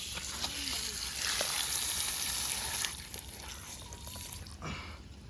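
Water gushing under pressure from a newly drilled borewell makes a loud, steady hissing rush that eases slightly partway through, heard outdoors.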